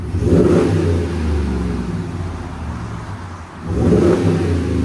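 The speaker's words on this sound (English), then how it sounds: "Here's sound decibels on startup." Car engine fitted with a Flowmaster Signature Series exhaust, a deep, loud, close rumble that swells near the start, eases through the middle and surges again near the end.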